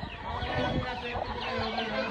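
Several chickens cluck and murmur close by in a continuous, overlapping chorus.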